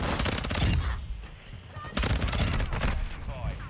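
Rapid automatic gunfire in Call of Duty: Modern Warfare 2, two loud close bursts separated by a brief lull, with faint game sounds between.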